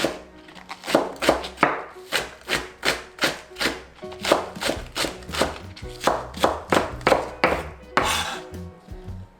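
Green onions (daehpa) finely sliced with a kitchen knife on a cutting board, a steady run of about twenty crisp, close chops in even rhythm with a brief pause near the end.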